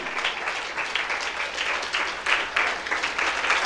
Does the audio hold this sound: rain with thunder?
no